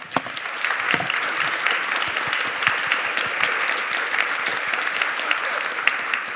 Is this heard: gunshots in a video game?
no